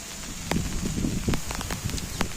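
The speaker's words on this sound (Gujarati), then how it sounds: "વરસાદ ચાલુ થઈ ગયો મટિયાણામાં" Steady rain patters close by, a dense hiss broken by scattered sharper drops striking a surface, with no voices.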